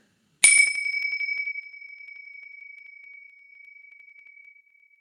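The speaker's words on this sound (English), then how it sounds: "So I'm going to ding the chimes" A single chime is struck once, ringing a bright metallic tone that slowly fades away over several seconds in silence.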